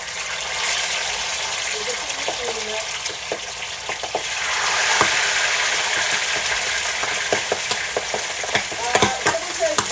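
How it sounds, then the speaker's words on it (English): Pork belly frying in oil, a steady dense sizzle with crackling pops and spatters throughout, louder in the middle and with sharp bursts near the end; faint voices sit low beneath the frying. "I'm actually just going to fry the fucking fat out of this."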